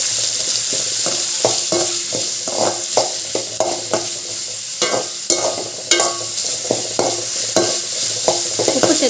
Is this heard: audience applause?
no